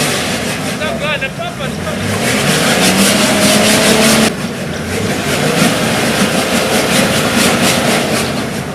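A vehicle labouring along a muddy dirt road in rural Cameroon, its engine droning loud and strained for several seconds, briefly easing off before roaring on again as it churns through the bog.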